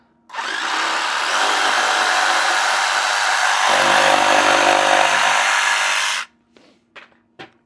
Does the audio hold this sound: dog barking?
no